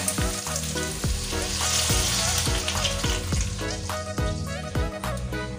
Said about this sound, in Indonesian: Ini mau aku kasih air. Kita kasih air sedikit ya.